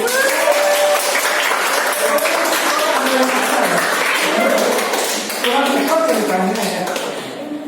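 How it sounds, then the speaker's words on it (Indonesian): A classroom of students claps in steady, dense applause that fills the room for several seconds, with voices mixed in beneath it. "Oke, tepuk tangan dulu ya."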